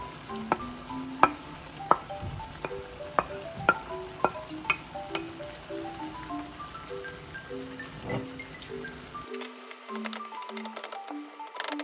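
Celery stir-frying in a pan for spring rolls, a steady soft sizzle with repeated sharp clacks of a utensil stirring and scraping, moderately close, over light background music.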